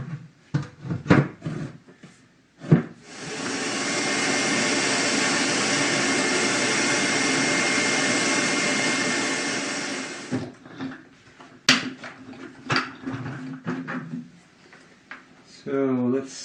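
A vacuum pulls dust through a cyclone separator into a bucket, giving a steady, loud whooshing roar for about seven seconds. Short clunks and handling noises come before and after it.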